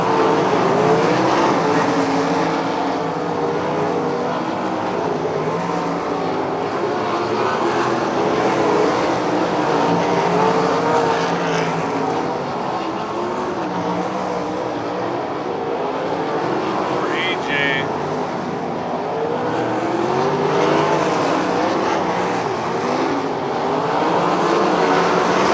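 Dirt-track race cars roar continuously around Lernerville Speedway during a Steel City Stampede race, a loud sustained engine drone with passing cars rising and falling while an announcer calls the action over the public address.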